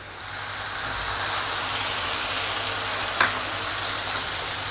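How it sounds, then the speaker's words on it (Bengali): Ginger garlic sizzling in a pan as tomato paste goes in, a steady close crackling sizzle throughout with a single sharp clink near the end, no talking. "এবার আমি টমেটো পেস্ট দিয়ে দেবো"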